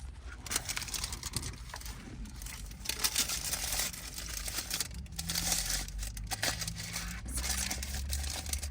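A wrapped shawarma is unwrapped at close range, with continuous crinkling and crumpling of its wrapper and brief tearing rustles throughout.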